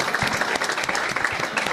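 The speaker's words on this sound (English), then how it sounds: "Round of applause for that." A karaoke-night audience claps for the karaoke host, a brief, moderately loud burst of dense, even applause from a small crowd with no voices over it.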